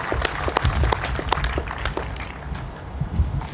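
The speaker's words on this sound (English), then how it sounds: "Let's give them a huge round of applause" An audience at a Pedro Park development event applauds a donor family, with scattered sharp claps and a looser, uneven patter throughout.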